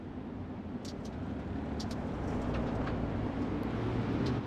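Simulated race car in iRacing accelerating hard down the front straightaway at Knoxville after a restart, a steady loud engine drone with broadband roar throughout, no talking.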